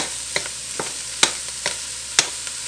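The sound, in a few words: mushrooms frying in oil in a pan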